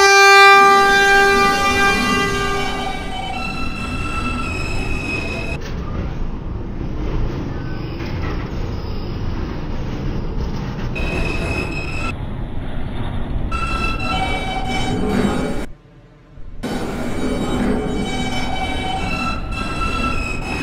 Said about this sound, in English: This is a Brooklyn-bound Q train.